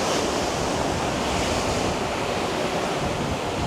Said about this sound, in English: Still pretty good sized waves as we're going through the water